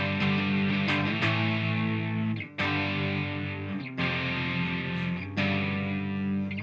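Thick, sustained electric guitar chords with heavy distortion, changing every second or so, played loud and dense without any voices.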